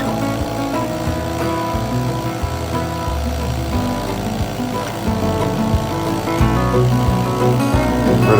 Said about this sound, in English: you can tell that this bandsaw blade is just about had it. Starting to slow itself down in cuts